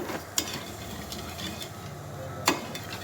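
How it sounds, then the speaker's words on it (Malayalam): Sugar and water for caramel stirred in a pan, soft continuous scraping with two sharp clinks of the spoon against the pan, close and fairly quiet. "ഇനി ഇത് നന്നായിട്ട് മിക്സ് ചെയ്യണം കേട്ടോ."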